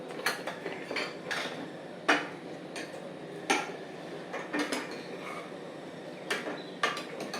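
Metal pressure cooker lid worked open after cooking vegetable kootu, giving a series of close clanks, scrapes and sharp metallic clicks spaced irregularly over a steady low background.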